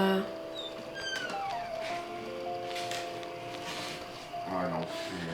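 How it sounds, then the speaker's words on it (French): A cat meows a few times in a home kitchen, rising and falling calls heard close over a steady background hum. "Chat."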